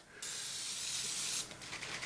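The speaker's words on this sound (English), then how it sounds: "So we start by just putting these up and spraying this stuff on." An aerosol can sprays foam paint stripper onto old Tootsietoys die-cast toys in a steady, close hiss lasting about a second, then fading into softer sputtering bursts.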